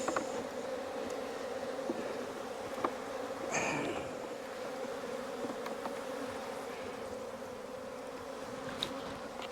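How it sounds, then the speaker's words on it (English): Robber bees swarm around an opened beehive while its Apivar strips are removed, a steady, dense, close buzzing that holds at an even level throughout with a few sharper passes near the microphone. "Nothing here, just a bunch of robber bees, it seems to me."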